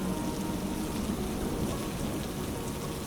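Steady rain pouring in a dense, even hiss with a low rumble underneath, moderately loud and continuous, with no voices.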